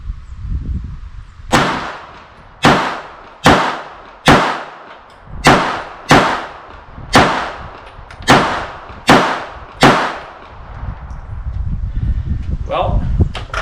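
Ten sharp pistol shots from a .380 compact handgun fired at a target on a range, spaced about one per second and each trailed by a short echoing decay, with faint outdoor rumble between them.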